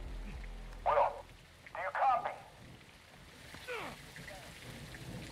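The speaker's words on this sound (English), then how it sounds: "It's raining fucking hard." Heavy rain in the video game Call of Duty: Modern Warfare II makes a steady hiss throughout, with brief voice bursts and soft rumbles layered over the downpour.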